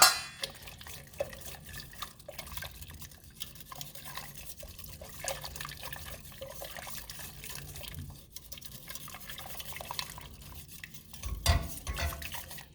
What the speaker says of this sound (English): Actually, I'm going to use my whisk.